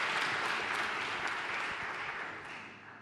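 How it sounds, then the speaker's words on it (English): Round of applause from a conference audience at a land and water showcase, a steady wash of clapping that gradually tapers off at the close. "Round of applause."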